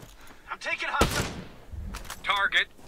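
A single loud gunshot in a Ghost Recon Breakpoint PvP match, a sharp crack with a short decaying tail, set between voices speaking quietly before and after.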